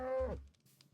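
A single cow in the Minecraft video game gives a short, low moo that slides downward and fades, followed by near silence.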